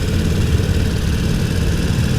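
Harley-Davidson Roadster with a 1200cc engine running, a steady low rumbling drone that holds at constant loudness throughout with no speech.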